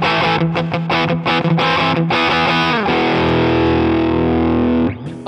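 An electric guitar played through the Neural DSP Archetype Tom Morello amp plugin gives heavily distorted, loud chords: choppy rhythmic stabs first, then a long sustained ringing chord.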